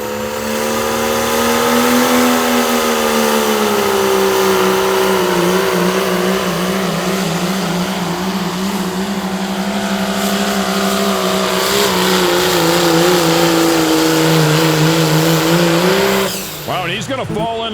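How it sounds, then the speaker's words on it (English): A diesel pulling truck named Iron Maiden, from Columbia City, Indiana, roars at sustained high revs through a pull at a pro pulling event. The engine is loud and close, with a slowly wavering pitch before it cuts off near the end, under an announcer's commentary. "Brian Shue and this truck called the Iron Maiden out of Columbia City, Indiana."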